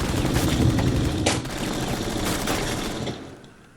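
Dense, continuous volleys of gunfire-like blasts and explosions in the video game Rainbow Six Siege, loud and close, with a sharp burst midway before trailing off at the end.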